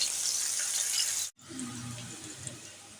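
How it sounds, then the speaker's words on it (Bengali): Bitter gourd frying in oil in a pan: a loud, bright sizzle that cuts out abruptly, then returns as a quieter, lower hiss with light crackles. "এবার করলাগুলো একটু ভাজা হোক।"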